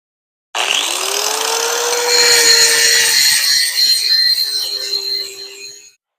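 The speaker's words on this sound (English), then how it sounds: "So as it cools, I'm going to take a grinder to it" A grinder bites into a cooling steel billet, giving a loud, close, continuous abrasive whine for about five seconds before it winds down and stops. No one speaks.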